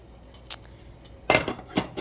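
A lid set onto a pot of cooking rice, giving a few sharp metallic clinks and clatters, one brief tap then a cluster of rattling knocks close by.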